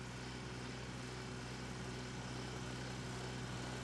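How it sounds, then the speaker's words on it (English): Hydraulic snow blower on a Kubota tractor throwing snow, a steady engine drone with a constant whir and no breaks, heard at a distance and fairly faint. "This gives you some idea of the snow throw."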